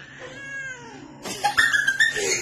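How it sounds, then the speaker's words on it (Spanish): A cat gives a drawn-out meow that bends downward in pitch, fairly close and clear, followed by a burst of louder, busier clattering sounds. "Si tú tienes muchas ganas de hacer miau"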